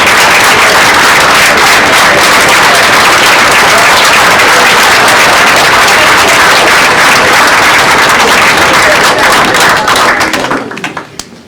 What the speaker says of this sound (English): probably they got a bigger applause